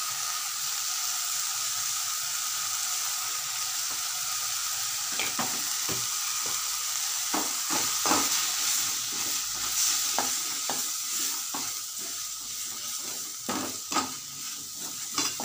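Tomatoes with chilli powder and sambar powder sauté in a pan for a butter bean and mushroom gravy, giving a steady close sizzle broken by repeated scraping stirs of a spoon, with no talk.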